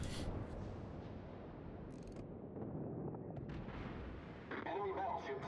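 Naval gunfire in the warship game World of Warships, with low rumbling artillery blasts and booms over steady battle ambience, several sharper bursts near the end, all fairly quiet.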